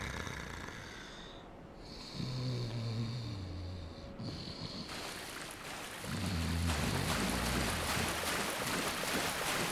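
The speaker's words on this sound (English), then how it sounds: "And we have snoring." Snoring of a character in Dark Souls, slow loud rasping breaths repeating over ambient game wind and water noise, about two snores in ten seconds with no talking.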